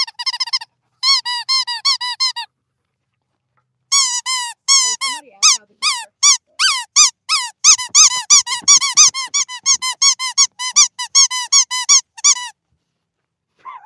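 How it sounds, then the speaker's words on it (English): Rubber squeaker toy squeezed in rapid bursts of sharp, high-pitched squeaks, close and loud, with short pauses between clusters and a dense run of quick squeaks in the middle. "How about just don't put squeaker toys in your mouth?"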